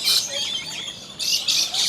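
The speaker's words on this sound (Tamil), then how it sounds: "விதவிதமான கலரில் உள்ள கிளிகளும் இருக்குது." Lory parrots in the Lory Loft aviary at Bird Paradise, Mandai Wildlife Reserve, Singapore, let out harsh, shrill squawks that come in close bursts, with a short quieter gap between them.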